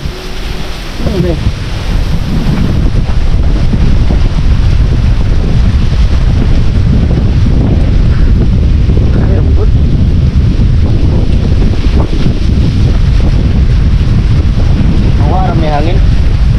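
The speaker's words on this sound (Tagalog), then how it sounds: "May hangin." Strong wind buffets the microphone with a loud, continuous low rumble, roaring gusts dominating, with brief faint voices and water sounds underneath.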